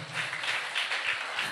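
An audience claps loudly in a brief, dense burst of applause.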